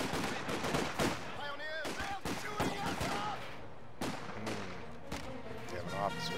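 Gunfire and shelling in Company of Heroes 2 during an artillery test: repeated sharp bursts and rattling volleys, some close and loud, mixed with game effects while a voice briefly speaks.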